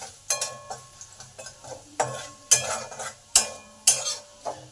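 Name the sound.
garlic frying in oil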